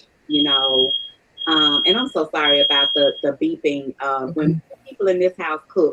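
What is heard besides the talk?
smoke alarm beeping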